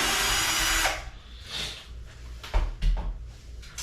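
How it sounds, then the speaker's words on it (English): A power drill whirs steadily as it backs out the screws holding an interior door latch in the side of the door, followed by short clicks and knocks of the latch being handled. "Just remove the two screws that hold the latch into the side of the door."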